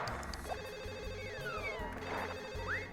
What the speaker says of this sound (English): As he goes home, I get a phone call about missing work.